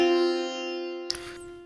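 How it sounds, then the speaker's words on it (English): Sustained melodic tone for the Indian scale note Ma (Madhyam), middle of the octave, with a steady stack of harmonics ringing alone before a brief noisy attack of the next note. "We get Ma. Ma's Madhyam,"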